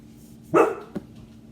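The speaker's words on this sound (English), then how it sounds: "That was my dog." A single sharp dog bark nearby, followed by a short faint yip, over a low steady background hum.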